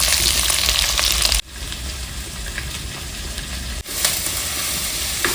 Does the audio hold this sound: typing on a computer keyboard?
no